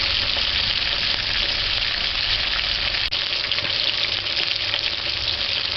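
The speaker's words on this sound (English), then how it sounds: "Allow it to fry 2 to 3 minutes." Fish frying in a hot pan as the first step of brown stewed fish, a steady dense sizzle running unbroken and fairly loud throughout, with a faint click near the middle.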